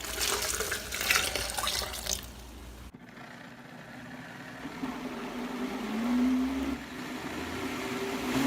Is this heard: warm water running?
yes